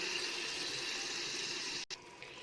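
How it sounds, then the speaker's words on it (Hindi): A little water poured from a tap into a bowl of spices and salt for achari chana pulao, a steady close splashing stream running for about two seconds before cutting off. "यहाँ मैं ऐड कर रही हूँ थोड़ा सा पानी"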